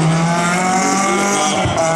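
A Renault Clio rally car, number 16, revs loudly at the start line of a rally stage, its engine note held high and steady, close and dominant for the whole moment.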